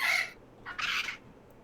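A caged bird squawks in two harsh, loud bursts separated by a short pause, close by, with no talking.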